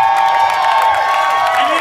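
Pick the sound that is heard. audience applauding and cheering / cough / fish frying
audience applauding and cheering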